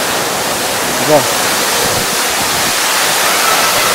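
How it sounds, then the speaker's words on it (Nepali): Krishi Jharana waterfall giving a constant broadband roar of rushing water, steady and enveloping throughout, with a brief faint voice near the start. "कृषि झरना आइसकेको छु"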